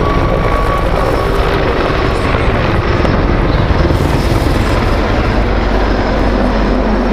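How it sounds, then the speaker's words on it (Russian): A Mil Mi-26 heavy helicopter flies at an air show, a loud, steady rumble of engine and rotor that fills the whole stretch without letting up, with no voices over it. "Вертолеты семейства Ми-26 по-настоящему уникальные"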